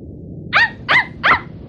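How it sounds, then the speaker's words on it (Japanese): A dog barks three times in sharp, evenly spaced yaps, loud and close against a quiet background with no talking. "この国でたった一匹の本物の犬さ。"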